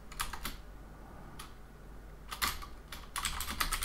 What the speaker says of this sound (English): and then I will read player and a write steps